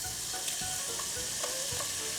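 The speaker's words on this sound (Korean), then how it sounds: "3분간 이렇게 식용유에 달달 볶아 주시는데요" Shredded burdock root stir-frying in a few spoonfuls of cooking oil in a pan, giving a steady, close, even sizzle and crackle with faint stirring scrapes and no talk.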